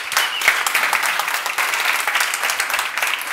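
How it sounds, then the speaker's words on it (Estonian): An audience applauds a guest speaker at an Estonian investment club talk, with dense, steady clapping that fills the room for the whole stretch and no voices over it. "Võtame suure aplausiga ta vastu."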